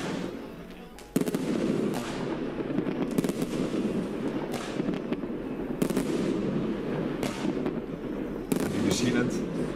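Rapid volleys of sharp bursts from a fireworks cake crackle and bang repeatedly over a dense background rumble, some louder reports standing out, continuing throughout.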